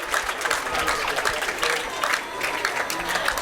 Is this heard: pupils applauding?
yes